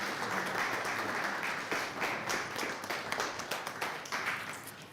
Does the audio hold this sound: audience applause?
yes